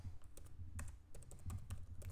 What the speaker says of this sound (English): Let's type in the real password.